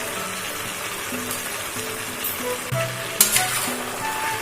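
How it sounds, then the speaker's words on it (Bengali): Prawns and prawn heads hit a pan of cooking bottle gourd, giving a steady close sizzle and frying hiss, with a brief louder burst of spatter partway through. "রান্নার এই পর্যায়ে এবার চিংড়ি মাছ আর চিংড়ি মাছের মাথাগুলো দিয়ে দেওয়া হচ্ছে।"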